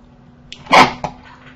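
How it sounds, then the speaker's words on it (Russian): A single loud human sneeze, close and sudden, a sharp breathy burst with a short follow-up catch, over quiet room background with a faint steady hum. "Ой, извиняюсь, я чихнул."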